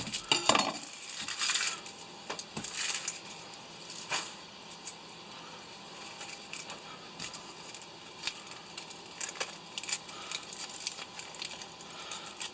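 A knife trims and cuts an onion on a board in a kitchen: scattered sharp taps, clicks and scrapes, louder at the start, then lighter irregular knocks over a faint background, close by with no talking.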